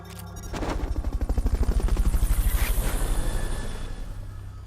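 Rapid, steady thumping of helicopter rotor blades in a video game, loud and close, holding a fast rhythm for several seconds before easing slightly.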